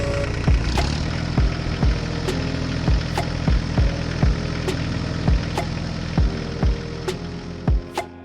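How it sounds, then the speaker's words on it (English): Large John Deere tractor engine idles steadily with a deep, even drone and regular knocking thumps repeating about once a second, close and loud throughout. "The massive tractor arrived at the farm."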